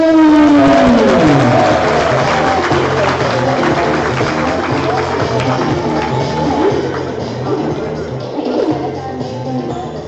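Loud, sustained applause and cheering from a darts crowd at a Dutch Eredivisie league event as home player Dennis is introduced, with rhythmic music underneath for the full stretch.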